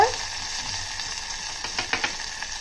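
Mustard seeds, cumin, dried red chillies, green chillies, curry leaves and asafoetida sizzle in hot oil as a tempering for lemon rasam, a steady close hiss with scattered crackles and pops from the spices.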